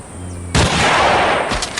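After a quiet half second of low hum, a sniper rifle shot in the Hunting Sniper video game bursts in loud and close, its heavy boom sustaining and slowly tailing off.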